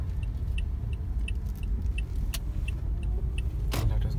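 A hybrid car pulls away on battery power in EV mode, giving a low, quiet hum under faint cabin noise, with a few light clicks and soft ticking sounds.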